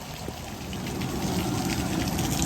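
Steady rain falling outdoors at a Louisiana crawfish boil, a constant hiss of drops pattering on surfaces that swells slightly louder over the stretch, with no voices.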